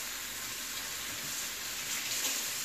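Tap water runs steadily from a faucet over hands being washed in a kitchen while making queso fundido, a continuous hiss that holds evenly throughout with no talking.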